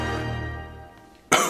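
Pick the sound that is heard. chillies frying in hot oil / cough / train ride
cough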